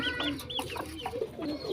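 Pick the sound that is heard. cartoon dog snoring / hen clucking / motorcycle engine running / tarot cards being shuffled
hen clucking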